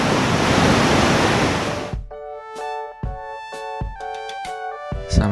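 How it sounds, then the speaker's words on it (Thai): The loud, continuous roar of rushing water at Khone Phapheng waterfall in southern Laos lasts about two seconds before cutting abruptly to plucked musical notes. "มานี่บ่ได้ยินเสียงเลยได้ยินแต่เสียงน้ำอย่างเดียวเลย"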